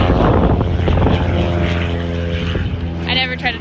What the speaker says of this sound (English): I never try to talk over other airplanes.